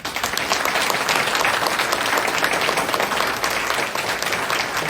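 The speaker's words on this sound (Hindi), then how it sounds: "उनके लिए भी आपकी उष्णता की जो हाथों की तालियां हैं वो जरूर पहुंचे हैं।" Dense, loud applause from a theatre workshop audience for the actors of the play Ek Aur Dronacharya, a continuous roar of many hands clapping close and steady throughout, with no talking.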